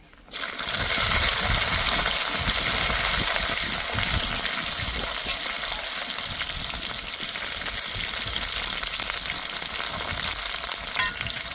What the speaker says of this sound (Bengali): এইবার দিয়ে দেবো থেতো করা আর কটা গোটা রসুন।